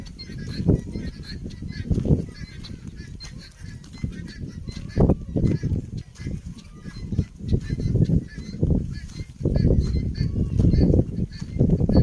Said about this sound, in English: Oh, loud guinea fowl.